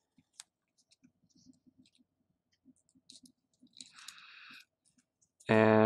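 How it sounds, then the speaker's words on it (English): Origami paper being creased and folded into an elephant model gives faint, scattered soft clicks and rustles near the mic, with a brief louder crinkle, before a voice comes in at the end. "For the back one, I'm also going to fold it in along the same line."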